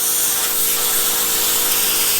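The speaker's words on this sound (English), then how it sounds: "I'm gonna come in with the angle grinder real close to the edge" An angle grinder with a cutoff disc cutting steel during an X-frame build, a steady loud high-pitched grinding hiss that holds constant throughout, close up with no voices.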